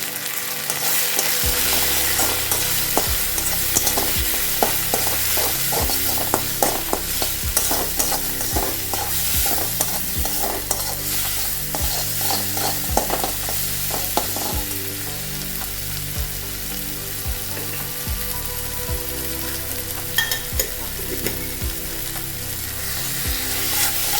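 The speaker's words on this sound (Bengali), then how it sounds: "মোটামুটি মশলা আমার কষানো হয়ে গেছে" Ground coriander and cumin spice paste sautéing in a pan for a Bengali prawn malaikari, a continuous close sizzle with repeated scraping stir strokes throughout and no talk.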